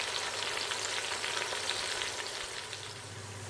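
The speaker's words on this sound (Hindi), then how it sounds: "प्याज को आपने तब तक फ्राई करना है जब तक कि इनका कलर जो है वो गोल्डन ब्राउन ना हो जाए।" Onions sizzle steadily in a pan, frying toward golden brown for a chana dal chicken curry. The hiss is close and continuous, with faint stirring, and no one speaks.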